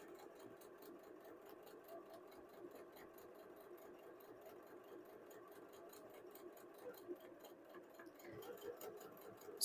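A sewing machine runs slowly while stitching quilt patches together, a steady rapid mechanical ticking hum that continues evenly throughout, fairly quiet and with no talking.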